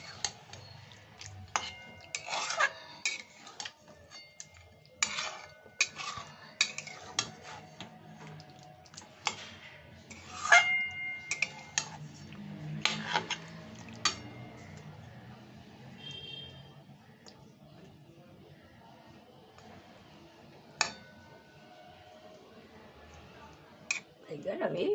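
Chicken do pyaza being stirred and mixed in a pan, with soft, irregular scrapes and light clinks of a utensil against the metal spread across the whole stretch, fairly quiet throughout.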